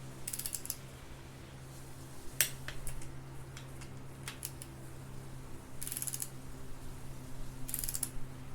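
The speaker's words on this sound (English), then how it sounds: "Set your torque wrench to 40 foot-pounds." Torque wrench clicking while tightening VR6 engine bolts to 40 foot-pounds, sharp isolated ratchet clicks scattered across the clip, some in quick pairs, over a steady low mechanical hum, close and without speech.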